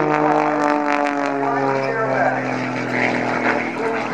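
Propeller aerobatic airplane tumbling at the Wings over Springbank airshow, a loud sustained engine drone with shifting pitch, heard outdoors under an announcer's voice.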